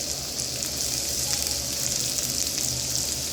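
Potato pieces frying with lightly browned onions in a pan, a dense, even sizzle close by, continuous and unbroken for a few seconds.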